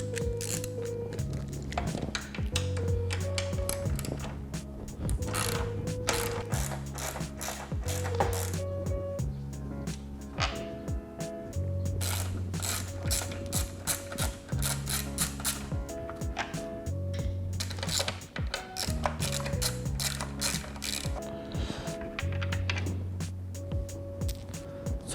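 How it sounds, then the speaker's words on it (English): A ratchet wrench with a 10mm socket turns headlight housing bolts on a 2018+ Jeep Wrangler JL, giving a steady run of rapid clicks over continuous background music. "we're going to be doing so just with a 10mm socket and socket wrench"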